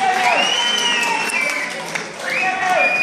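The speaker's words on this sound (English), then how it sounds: "Give a nice round of applause." Concert audience applauding and cheering at a Wolfe Tones show in the West County Hotel, Ennis, a steady crowd roar with sustained, wavering tones over it and a brief dip before it swells again.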